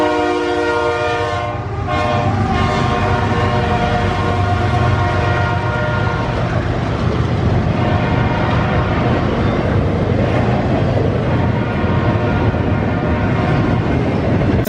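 A long freight train led by an AC44, a Dash 9 and two GEVO diesel locomotives passes close by in Emporia, Kansas, sounding its horn in steady held blasts at the start before loud engine rumble and rolling wagon noise fill the rest.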